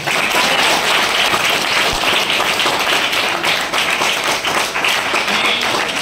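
Loud, continuous applause from an audience at a school welcome ceremony for eleventh-grade students, honouring the parents in attendance; dense, even clapping sustains for several seconds without talk.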